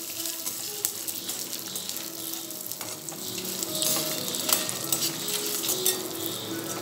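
Green chillies sizzle and crackle steadily in a hot pan of oil for a brinjal curry, a dense close frying hiss with occasional pops and a light stir, no voices.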